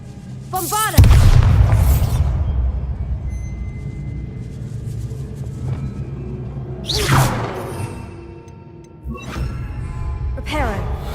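A Bombarda explosion spell goes off in the Hogwarts Legacy video game, a loud deep boom with a whooshing tail, followed by two more blasts and rumbling debris over a steady game ambience.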